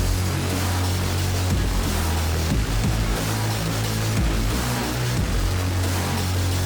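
Emulated electric guitar part built with the FL Slayer synth in FL Studio, a loud, sustained distorted tone with a steady low-end drone, playing continuously with no voices.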